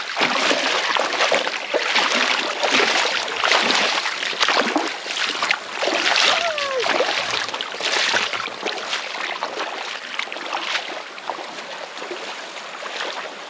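Flowing water from a mountain stream that crosses a hiking path and has to be waded across, heard as a steady, fairly loud broadband rush and splash that fills the whole stretch with no talking.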